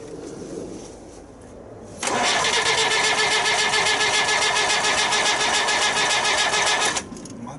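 A 1966 Austin London taxi engine, started for the first time in years, turns over with a sustained loud whirring crank of rapid rhythmic pulses for about five seconds before cutting back to the quieter background.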